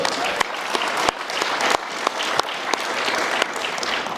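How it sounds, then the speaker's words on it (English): Audience applause at the National Cyber Innovation Forum: dense, steady clapping from a crowd fills the whole stretch, fairly loud and close, with sharp individual claps standing out. "Let's give a round of applause for Andrew McClure."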